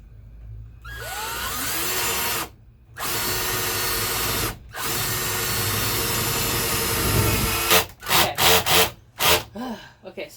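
A power drill drives a screw through the metal wall of a van, a long steady whir broken by two brief pauses and ending in a string of short stuttering bursts, close and loud.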